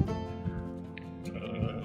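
A newborn lamb on a farm, one of several born that day, gives a sustained, wavering bleat up close, with a second shorter cry layered in near the end.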